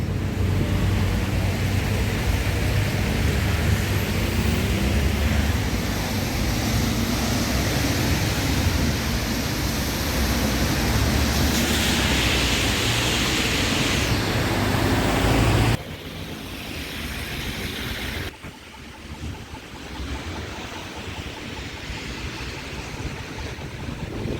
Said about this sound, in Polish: Woda wylatuje stąd.